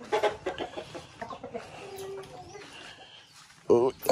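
Backyard hens cluck in a muddy farmyard around the laying nests, short clucks coming in bursts with one louder squawk near the end, while people talk nearby.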